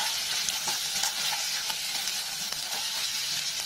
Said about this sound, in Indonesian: Terus kita tumis lagi sampai aroma rempahnya keluar dan bumbunya benar-benar matang